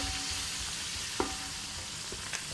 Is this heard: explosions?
no